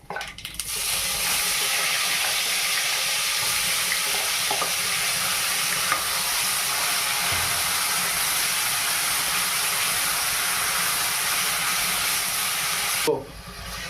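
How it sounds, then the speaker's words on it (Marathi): A ground masala paste with mustard seeds, asafoetida and curry leaves fries in a pan for a soy-paneer curry, giving a loud, steady hissing sizzle that holds for over twelve seconds before fading, no talking. "तर आपला आता मसाला फ्राय होऊ राहिला आहे"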